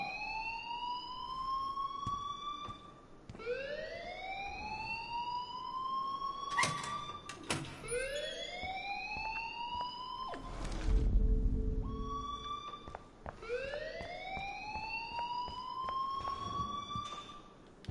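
A rising and falling siren-like alarm wails repeatedly in the Life is Strange video game, loud and close, with several clanking door or impact sounds breaking in midway and a low rumble near the middle.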